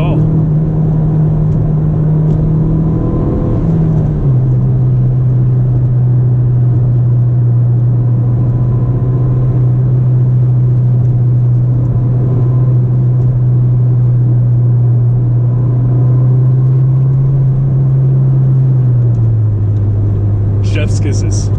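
Ford Fiesta ST engine with piped-in engine noise inside the cabin: a continuous low hum that holds a steady pitch and drops in two clear steps, like gear changes, with road rumble throughout.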